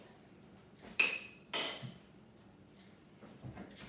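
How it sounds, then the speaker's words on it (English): A spoon stirring smoothie ingredients down toward the blades in a blender jar, giving a few sharp clinks and scrapes against the jar at irregular intervals, close and moderately loud against a quiet kitchen background. "I'm going to stir it just to make sure it is all down in the blender by the blades."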